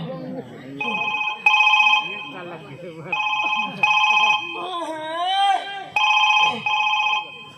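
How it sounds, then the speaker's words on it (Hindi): A telephone ringback tone repeats in a steady rhythm of paired rings after a call is dialed, loud and close, with someone talking between and over the rings. "मैं महाराज का अभी फोन लगा दूं।"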